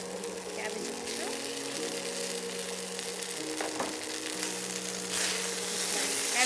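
Cabbage stir-frying in a pan for buff noodles, a steady close sizzle with soft stirring scrapes, under a person talking and with a faint hum in the background.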